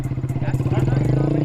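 Honda Grom dirt bike engine revving steadily as a wheelie is attempted, a loud close pulsing motor sound heard from the rider's position, with a voice talking over it.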